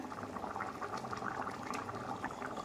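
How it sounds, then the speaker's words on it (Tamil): A pot of mochai (field bean) kuzhambu curry bubbles on the stove with oil separating at the edges, a steady, close simmering gurgle that runs without a break and without any voices. "நல்லா கொதிச்சிட்ருக்கு தலை தலை தலைன்னு"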